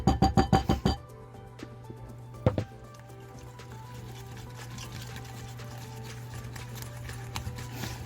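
A mini spoon stirs mayonnaise sauce in a bowl while cooking bang bang chicken tacos in an RV, giving a quick run of close, rhythmic clinks at the start and a single later tap over a low steady hum.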